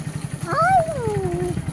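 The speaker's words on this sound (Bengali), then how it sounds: "তো এখন আমরা বাইকে করে যাচ্ছি। আর এটা বাইক চালাচ্ছে।" A motorbike engine hums low and steady while riding, with a brief rising and falling tonal whine sweeping over it midway.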